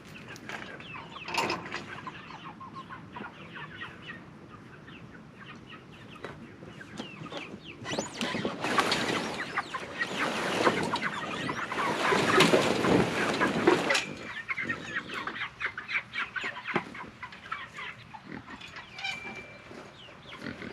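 Freedom Ranger chicks in a farm pen, many birds clucking and chirping together with rustling movement, the chatter swelling louder in the middle.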